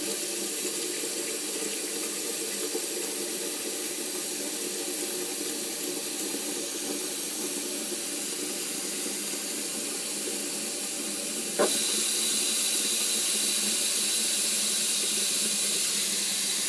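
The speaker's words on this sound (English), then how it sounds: "I'm just going to be adding cold water." Cold tap water runs steadily from a faucet into a pot of cooked tapioca pearls, a constant close hiss that shifts and grows slightly brighter partway through, with no talking.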